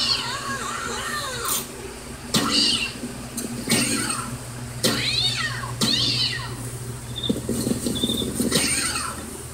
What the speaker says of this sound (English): Pizza delivery man, prepare to meet your maker at the hands of my cat launcher.